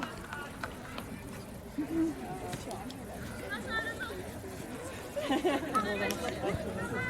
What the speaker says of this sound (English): And with all of the yelling and cheering on the sideline,